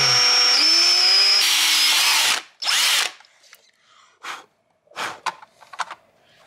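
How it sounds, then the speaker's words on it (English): A power drill whirs loudly for a couple of seconds drilling a small hole in an Axial SCX24 C10 scale accessory, stops, gives a short second burst, then scattered quieter handling noises follow. "I need to drill it."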